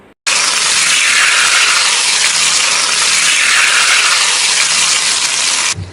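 Hot cooking oil poured from a wok onto chili sambal gives a loud, sudden sizzling hiss that starts abruptly, holds steady for several seconds close up, then cuts off.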